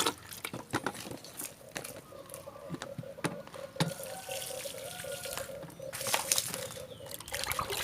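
Water poured from a watering can around the base of a garden plant, a steady close trickle and splash with scattered patters and small knocks throughout.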